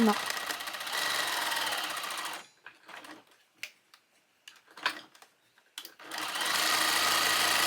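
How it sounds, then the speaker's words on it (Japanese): A sewing machine runs in a steady fast whir while stitching a blouse hem with a triangle cloth tucked in, stopping for a few seconds of small clicks and handling noises before running again. "裾を三角布を挟んで縫おう"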